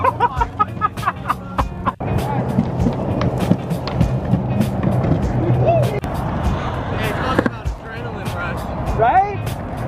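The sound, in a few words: WOWGO electric skateboard riding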